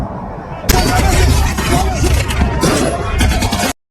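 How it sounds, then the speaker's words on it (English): Dense gunfire crackles in a civil-war shootout between rebels and government soldiers, rapid loud bursts and booming reports packed together over a few seconds before cutting off abruptly. "we see Egyiawan and his family evading bullets from a shootout happening"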